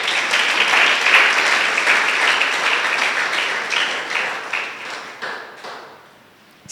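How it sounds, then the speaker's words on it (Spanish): A church congregation breaks into loud, dense applause that holds for several seconds, then fades out into a few scattered claps. "Denle un aplauso al Señor."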